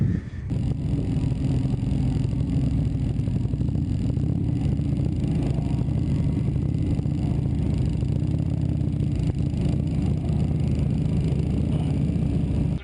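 A motorcycle rides through training gates on a practice course. Its engine gives a steady, continuous low drone from start to finish, with no talking over it.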